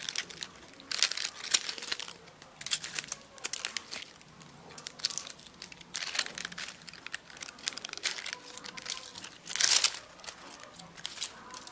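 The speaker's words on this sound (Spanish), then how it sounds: "Solo pueden retirar estas hojas secas para no" Dry leaves of a Billbergia nutans bromeliad crackle and crinkle as they are pulled and torn away, in irregular close bursts with one louder rustle near the end.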